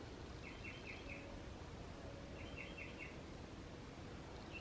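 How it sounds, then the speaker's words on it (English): Birds chirping in springtime: faint, quick bursts of four repeated high chirps, heard twice against a steady outdoor hiss, distant and soft. "The birds are chirping."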